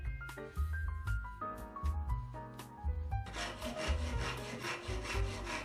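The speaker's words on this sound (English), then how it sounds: "Cutting the ply around the cathedral windows." Plywood is hand-sawn around cathedral-style window openings in a woodworking build, giving steady rasping strokes that grow denser and louder midway, with tonal, music-like notes in the background.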